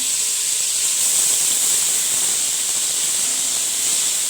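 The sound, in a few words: ginger garlic paste frying in oil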